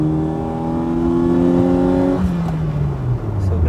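A tuned Type-2 Honda City engine revs hard while driving, rising in pitch then dropping as the car shifts, loud and close.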